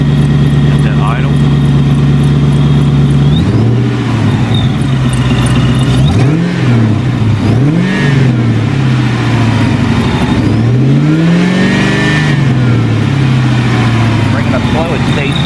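Ford Mustang GT from the 1999–2004 years with a fault being traced, its engine idling steadily, then blipped repeatedly so the pitch swoops up and falls back in several loud rev sweeps before settling.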